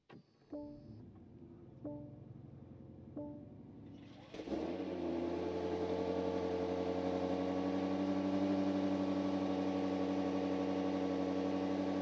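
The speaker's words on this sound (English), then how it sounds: "as the twin-turbo V8 comes to life along with some chimes to welcome me" A BMW Alpina XB7's cabin plays three soft welcome chimes, then the twin-turbo V8 engine cranks and catches, settling into a steady, fairly quiet idle hum heard from inside.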